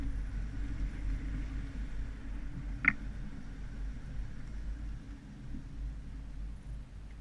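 A 2016 Winnebago Spirit motorhome fitted with a Yakima LongHaul RV bike rack drives a slalom test course, giving a steady, close low rumble and road hiss, with one sharp click or knock partway through and no voices.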